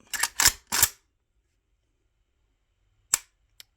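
A KRINK AKS74U rifle gives a few sharp mechanical clacks as it is handled and cleared, then after a pause a crisp single trigger-reset click and a tiny second tick, close and dry with no talking.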